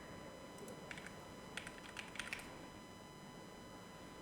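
Quiet computer keyboard typing during a Canva editing session: a few scattered key clicks, then a short cluster of faint taps near the middle, alone over low background hiss.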